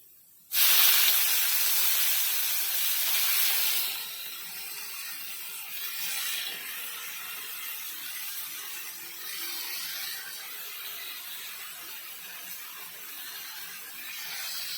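Sliced onions hit hot oil already seasoned with fennel and cumin seeds in a pan, a sudden loud sizzling hiss that settles into a steady, softer crackling fry for about fifteen seconds.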